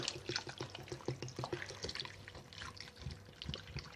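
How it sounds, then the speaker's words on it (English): Rainwater splashes and trickles steadily into a pot over bones, with a faint, uneven pouring sound close by and no voices. "I'm going to add my rainwater"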